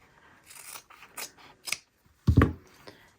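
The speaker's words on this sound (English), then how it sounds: "So let's go ahead and cut on that drawn line." Scissors snip through quilting fabric along a drawn line for a Mrs. Claus quilt block, a few soft close cuts ending in one louder, fuller crunch, with no talk.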